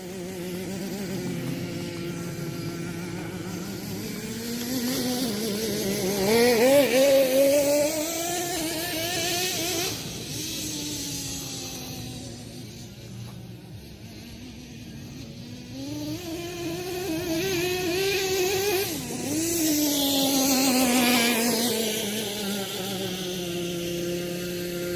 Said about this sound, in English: Can you hear all the gears?